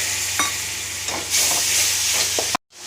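Paneer masala is stirred in a kadai, a close steady sizzle with a few scraping spatula strokes, and a little water added, swelling the hiss before the sound cuts off abruptly.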